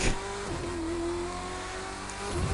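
A car with a 7-speed transmission accelerating in the video game The Crew 2, the engine note revving steadily with a pitch that rises, dips briefly at a gear change, then climbs again, loud and close.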